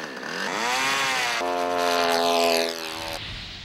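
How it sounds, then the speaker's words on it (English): A small one-third-horsepower K&B model airplane engine screams at high revs, its buzzing pitch rising and holding steady, then dropping slightly before cutting to a lower drone. "That's plenty to run a small model airplane."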